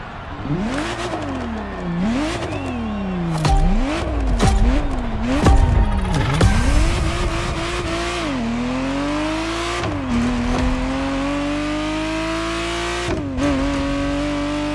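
A Ferrari Testarossa in The Crew Motorfest, its engine revving up and down in repeated surges before settling into a steady high drone, loud and close, with a few short tire squeals and no talk.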